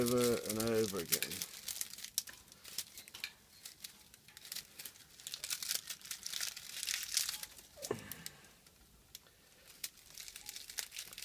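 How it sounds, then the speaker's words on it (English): Newspaper folded over and over by hand, a close run of papery crinkles and rustles with a few sharper creases, fairly faint, beginning right after a voice. "all we do is we fold it over and over and over and over again."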